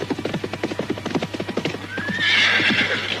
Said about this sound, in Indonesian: Keduanya memacu kuda berdampingan.